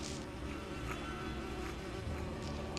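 A swarm of bees buzzes from a nest struck by a thrown rock in Lego Lord of the Rings on PS3, a steady droning hum, close and continuous throughout.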